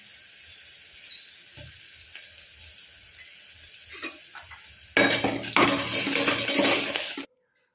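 A ladle stirs onions in a pan for suvarotti (goat spleen) gravy, first with soft scrapes and taps over a quiet background, then a loud, close, steady sizzle of frying.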